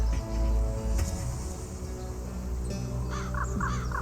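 A crow caws in the Haunted Hotel: Charles Dexter Ward PC game, several loud, harsh calls in quick succession near the end, over a steady droning game ambience and no talk.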